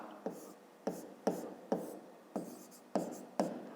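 Handwriting on paper while working a fifth-grade maths exercise, a series of soft close taps and scratches, about seven evenly spaced strokes, faint and alone.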